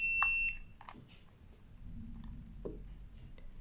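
A Mata T2 device gives one short, high electronic beep as it enters settings mode, followed by faint handling noise in a quiet room.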